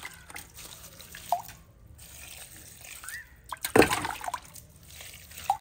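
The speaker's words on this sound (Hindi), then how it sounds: "इसमें भी थोड़ा पानी डाल देता हूँ।" Water poured onto garden plants, with a loud splash midway followed by scattered drips and trickles, close by, alone with no talking.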